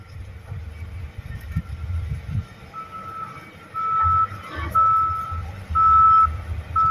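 A bored pile drilling rig rotating at landslide repair work on a toll road: loud rumbling heavy machinery with a repeating high whine in regular bursts, steady and fairly close, with wind noise and no talking.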